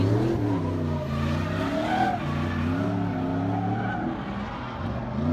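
A tuned Nissan S14 with an SR20DET engine drones steadily nearby at a drifting event, its pitch rising and falling as the revs change, with a constant roar throughout.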